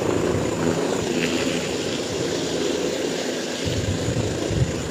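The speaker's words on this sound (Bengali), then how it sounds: "হেলিকপ্টার কিন্তু ইতিমধ্যে ল্যান্ড করছে ল্যান্ড করছে" A Bangladesh Army helicopter comes in to land, its engine and rotor making a continuous loud droning roar with a steady wash of noise throughout.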